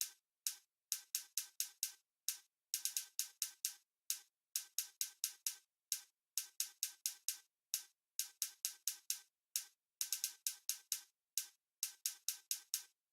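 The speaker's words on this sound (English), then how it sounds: "Okay, very simple hi-hats." Simple hi-hats in an ambient trap beat, crisp bright ticks in quick repeating bursts and rolls with short gaps, alone and fairly quiet.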